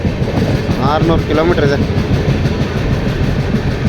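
A passenger train travels on rails toward Prayagraj, giving a steady, close rumble with faint wheel clatter throughout while a person talks over it.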